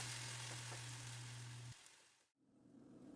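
A taco burger patty fries in oil with a dense, steady hiss and crackle, loud and close, alone without voices, holding throughout with a brief dip near the end.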